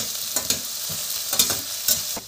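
Chopped tomato, onion and green chilli frying in mustard oil: a bright, steady sizzle broken by several stirring scrapes and clacks of a spoon against the pan, close up with no speech.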